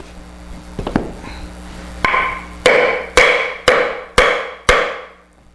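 A steel tool head glued to a carbon fiber rod, swung like a tomahawk, chops into a 2x4 six times, each blow a sharp, loud thwack at a steady rhythm with brief decay, after a couple of lighter taps.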